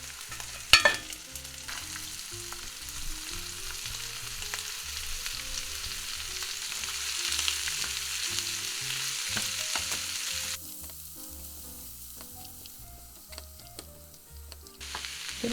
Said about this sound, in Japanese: ソーセージを入れていきます。 で、軽く炒めてやって